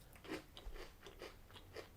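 Close, quiet crunching as a McVitie's Digestive Twists biscuit with chocolate chips and caramel bits is bitten and chewed, a steady series of crisp crunches spread over a couple of seconds.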